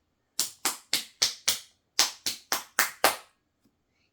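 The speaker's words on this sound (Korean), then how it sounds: "그러면 먹고 나서 칭찬으로 박수 쳐?" Hands clapping near a baby during a feeding of homemade carrot and potato rice porridge, about ten crisp, close, evenly spaced claps in two quick bursts with a short pause between, then silence.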